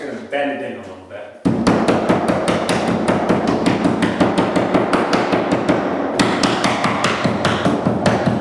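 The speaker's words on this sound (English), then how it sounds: "Ease the edge of the drywall with a hammer." Rapid, steady hammer taps on a drywall edge beside a door jamb ring out close by in a long even run, with a short pause partway, after a brief moment of talk at the start.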